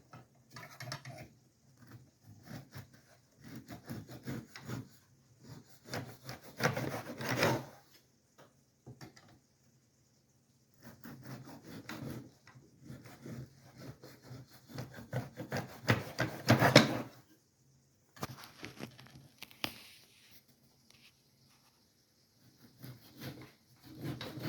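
A knife saws through a loaf of hot bread for a barbecue sandwich, making rough, close rasping strokes in short bursts separated by pauses, with no talking.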